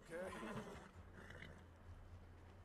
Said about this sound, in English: Gonna calm the horse down real quick.